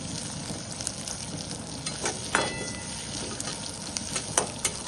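Chopped onion fries with mustard seeds, cumin and garlic in a hot pan, giving a close, continuous sizzle with a few sharper crackles and stirring scrapes, no voices.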